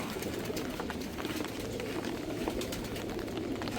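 Pigeons kept in a loft during rain, with soft continuous cooing and scattered calls over a steady, fairly even background, no talking.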